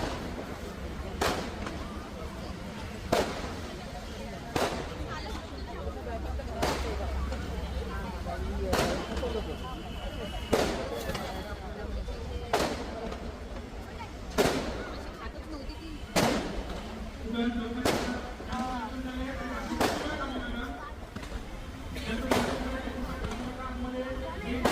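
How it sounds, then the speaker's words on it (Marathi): Firecrackers burst at a temple festival, a dozen or so sharp bangs spaced a second or two apart and heard from a short distance, with people talking in between. "फटाके पण दिसतील."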